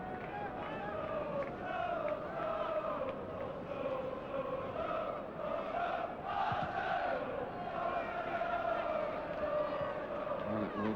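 Football crowd at an FA Cup third round replay between Sunderland and Arsenal in 1997, a broad, steady stadium roar of cheering and chanting that rises and swells throughout.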